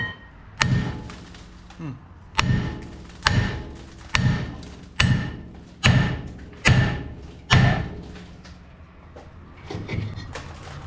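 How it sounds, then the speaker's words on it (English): Heavy metallic hammer blows land on a seized front brake rotor of a second-generation Toyota Tacoma, about eight strikes in a steady rhythm, loud and close, each ringing briefly before the next. "to get the rotor off on the other side, I had to hammer it pretty good"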